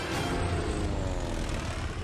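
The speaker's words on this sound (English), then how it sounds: "they launched whole squadrons of torpedo planes and dive bombers" Squadrons of WWII torpedo planes and dive bombers flying overhead, a loud, continuous roar of propeller aircraft engines holding steady without pause.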